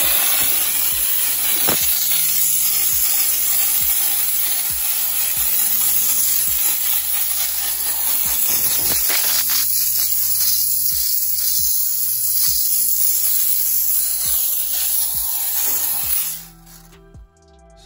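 Loud, continuous hissing spray of steam from a Vapamore steam cleaner on a car, sputtering and crackling at times, ending with a brief quiet at the close.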